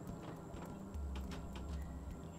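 Horse hooves clip-clop at a steady walking pace in a sheep-herding video game, with soft, even steps over a constant low background hum.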